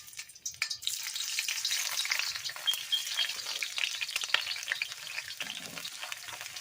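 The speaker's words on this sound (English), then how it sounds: "We're going to start putting those onions in there." Onions frying in avocado oil for steak and vegetable fried rice, a steady bright sizzle that flares as they hit the pan, with occasional stirring clicks, close and continuous without talk.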